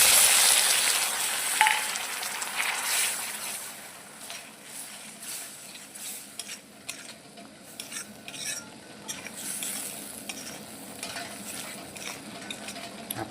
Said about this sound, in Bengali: মশলা ধোয়া জলটা এবার দিয়ে দেবো।